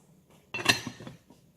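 A lid drops onto a pot of Puerto Rican white rice (arroz blanco) as it cooks, giving one short metallic clatter and rattle up close before the kitchen falls quiet again.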